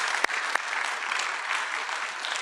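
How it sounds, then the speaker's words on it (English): An audience gives a round of applause for educators at a State of the Schools address, dense, even clapping from a large crowd throughout, fairly loud and without talk. "I think that's a round of applause for our educators."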